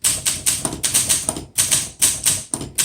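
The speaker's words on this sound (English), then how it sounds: "Some typewriters, the sound of the tick, tick, tick can be a little irritating." A 1958 Olympia SM3 vintage manual typewriter clacks under quick typing, with a run of crisp, evenly spaced key strikes and a couple of short pauses, close and loud.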